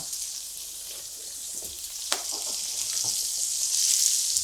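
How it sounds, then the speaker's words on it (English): Steaks searing in a hot cast iron pan on a stove, a steady bright sizzle with a few pops and crackles, close and loud with no talking. "I'm gonna open up this hot stove and we're gonna put our steaks in real quick"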